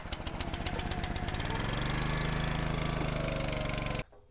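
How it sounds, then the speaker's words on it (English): A SPLIT-FIRE log splitter's small engine runs close by, a loud, steady, rapidly pulsing chug that holds for about four seconds and then cuts off abruptly into near silence. "So we're going to go ahead, start it up."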